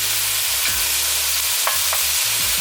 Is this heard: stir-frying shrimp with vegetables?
yes